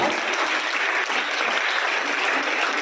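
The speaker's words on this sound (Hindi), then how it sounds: "जोरदार तालियों के साथ एक बार स्वागत" Loud, thick applause from an audience welcoming guests at a Mother's Day gathering, an unbroken wash of many hands clapping at once, close and even throughout.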